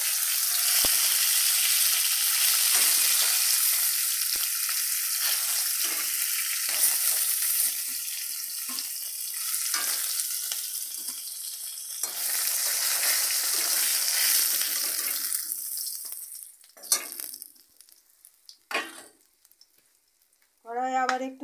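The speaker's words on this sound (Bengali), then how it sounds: "তুলে নিয়ে আমি বাকি মাছগুলো ভেজে নেব।" Fish frying in oil in a wok, with a loud, steady sizzle filling most of the clip that thins out near the end into scattered spatters and a few clinks of a utensil against the pan.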